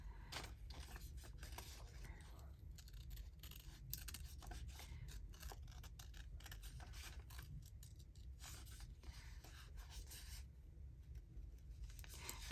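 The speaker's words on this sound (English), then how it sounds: "I can use my big scissors for these." Big scissors cut through paper in a soft, repeated series of quiet snips and rustles, steady and close but faint, with no talking.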